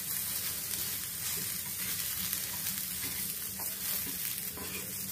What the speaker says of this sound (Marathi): कांदा छान भाजला की मग आपली रेसिपी सुंदरच